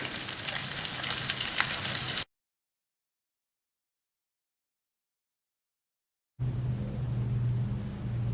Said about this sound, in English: Just cooking my burger patties.